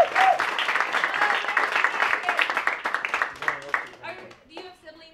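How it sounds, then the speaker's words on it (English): An audience at a class recital claps and applauds, a dense burst of hand claps that is loud at first and thins out toward the end, with a few voices mixed in. "Give yourselves a hand clap."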